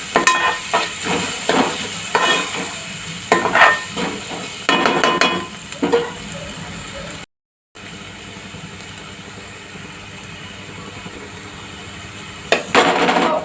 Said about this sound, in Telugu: ఉల్లిపాయలు బాగా బ్రౌన్గా ఫ్రై అవుతున్నాయి